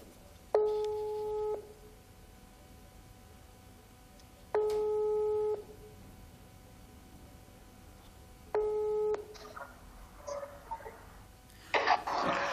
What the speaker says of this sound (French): Je vais composer alors son téléphone pour voir s'il est déjà à la ligne